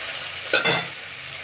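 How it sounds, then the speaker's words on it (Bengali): Onion, garlic, cumin and bay leaves sizzle as they fry in a pan, a steady hiss with one brief scrape of stirring partway through. "পেঁয়াজ রসুনটা ভাজা ভাজা হয়ে এসছে"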